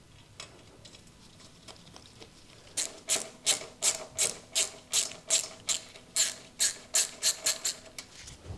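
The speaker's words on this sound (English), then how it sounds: "I can clear that out with a thread tap" A thread tap works through the bore of a broken motorcycle frame bolt with a run of sharp, evenly spaced ratcheting clicks, close and loud, following a quieter stretch of faint scraping.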